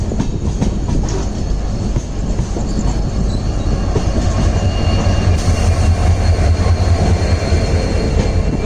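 A Netravati express train runs past a rail crossing on the Konkan route, a loud, close, continuous roar of wheels with clattering and faint squeals that holds throughout, no voices over it.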